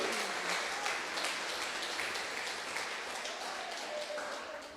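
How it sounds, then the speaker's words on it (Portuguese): Church congregation applauding during an evening sermon, a steady wash of clapping that holds at a fairly even level for the whole stretch, fading slightly at the end. "aplauda bem forte ao Senhor nesta noite"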